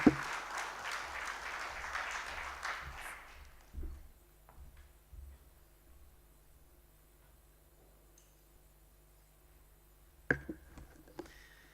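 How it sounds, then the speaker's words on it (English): Forum audience applause that starts loud and then fades out over a few seconds, followed by quiet room ambience with a few scattered knocks. "I'm sure we can do a bigger round of applause than that to Afrexim Bank"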